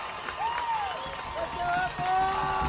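A football crowd at a WPIAL high school game, Gateway at Franklin Regional, roars in a steady wash of cheering and babble, with whistles and shouts rising over it.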